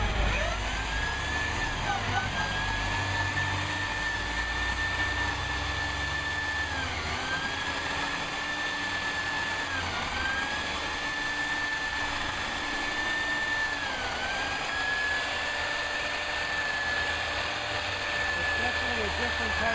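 Laticrete 4XLT thinset mortar is mixed with a power drill paddle, a steady loud motor whine that dips and recovers in pitch several times as the paddle bogs in the mix, close throughout.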